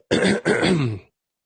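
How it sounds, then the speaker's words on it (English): A person clears their throat twice in quick succession, close and fairly loud, with a rough, gravelly rasp before falling silent. "that need to clear your throat"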